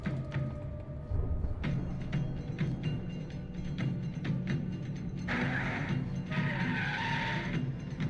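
Car racing and tire skids from a NASCAR television commercial playing inside the Alan Wake video game, with engines roaring and tires squealing in bursts, a sharper skid near the end, at moderate level without talk.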